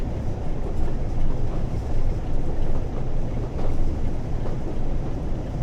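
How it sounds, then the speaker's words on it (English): London Underground D-stock train departing, heard from a passing mainline train near the M4 motorway as a steady, loud low rumble with wind buffeting throughout and no clear separate events. "Oh, there's an underground train just departing."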